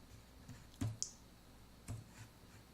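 A few sparse, quiet key clicks from a compact Logitech K380 wireless keyboard, spaced irregularly with short pauses between presses in a quiet room.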